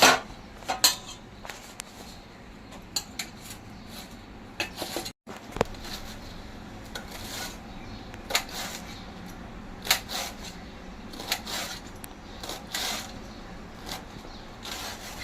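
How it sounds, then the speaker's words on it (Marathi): A knife finely chops rolled taro (alu) leaves on a board, giving a run of quick, uneven taps and scrapes, close and moderately loud, with a brief gap partway through. "बघा किती एकदम बारीक चिरलं जातं छान"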